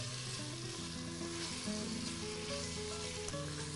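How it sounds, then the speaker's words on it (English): Smoked sausage sears on the browning setting of a pressure cooker while gumbo is being made. A loud, constant sizzle and crackle fills the whole stretch, with no voices over it. "adding our sausage first, and we're using the brown function or searing function on this unit"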